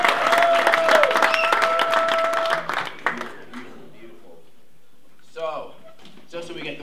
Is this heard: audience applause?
yes